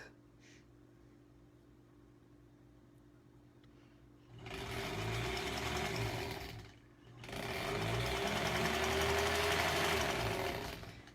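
A sewing machine stitches granny square quilt pieces in two loud, continuous bursts of rapid whirring, separated by a short pause after a quiet stretch of low hum.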